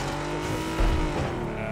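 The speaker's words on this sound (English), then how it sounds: "I can't hear you because of the car" A car engine in PUBG on the Miramar map drones steadily with a harmonic whine, a slight surge midway, no voices.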